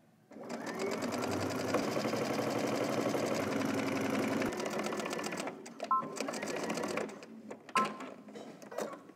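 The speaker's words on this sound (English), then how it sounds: "Okay, so once you do one side, you want to understitch the other side the same exact way" Home sewing machine understitching a facing seam on a garment, running in one steady, loud whirring burst for several seconds before slowing into a few short stop-start stitching bursts, with no talk over it.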